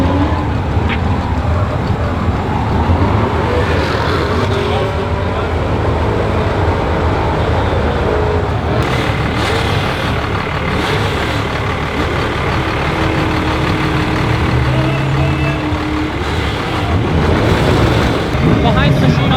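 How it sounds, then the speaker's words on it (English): A diesel truck with a 12-valve engine on boost doing a burnout at a burnyard event, a loud continuous engine roar and rumble sustained throughout with crowd and ambient noise, no clear speech. "we're getting ready to pull out in the middle and do a burnout in the D-rod"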